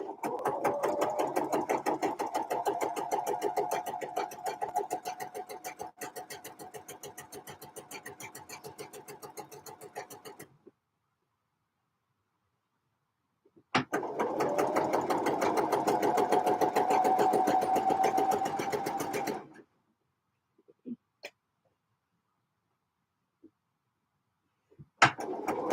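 A sewing machine stitching knit tops, its rapid mechanical clatter running in two close bursts of about ten and six seconds separated by silence, followed by a few faint clicks.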